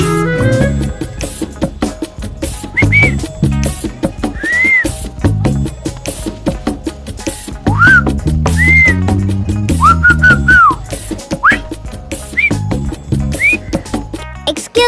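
Two people trading whistled song snatches back and forth in a whistle antakshari game, bright rising and falling whistle phrases recurring through the clip over busy background music and noise.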